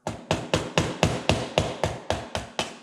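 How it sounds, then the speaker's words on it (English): A small screwdriver hammered into a dash pad fastener on a 1966 C2 Corvette, about ten evenly spaced, close, sharp metallic taps in a steady rhythm with no talking. "I'm going to take and just try and drive this little tiny screwdriver"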